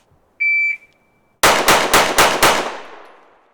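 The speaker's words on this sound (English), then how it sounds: "From the low ready, fire 5 rounds in 4 seconds." A shot timer beeps, then five pistol shots from a Smith & Wesson Carry Comp or Walther PDP crack in quick succession in a timed drill, loud and close, with a decaying echo after the last.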